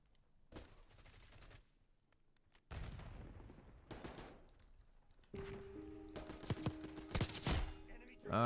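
Shooter video game gunfire: bursts of rapid shots and impacts come in clusters, quiet at first and building toward dense, louder volleys near the end, with a sustained tonal game sound running underneath.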